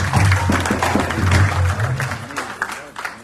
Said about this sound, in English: They need a bigger round of applause than that.